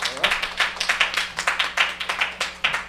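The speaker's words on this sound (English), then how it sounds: "A round of applause" Applause at a healthcare AI talk at RSTCON 2025: a small audience claps in quick, uneven bursts for about three seconds, the claps fairly close and distinct rather than a dense roar.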